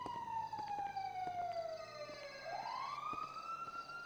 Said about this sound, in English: I'm hearing sirens already.